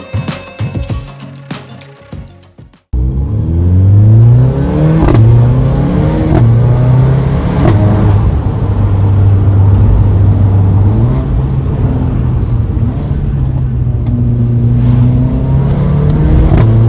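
A Mercedes-AMG A45 hot hatch engine fires up after a brief clatter, then revs loudly and steadily with rising and falling blips, close by and alone.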